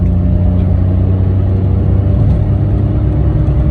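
A car engine pulls at about 40 mph in third gear, a loud, steady low drone with a rough, even rumble and no break.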